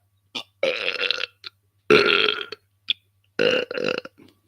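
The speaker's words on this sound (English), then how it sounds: "Those are shoegaze era burps." A person lets out a series of long, loud, close burps, five or six drawn-out bursts separated by short silences, with no talking.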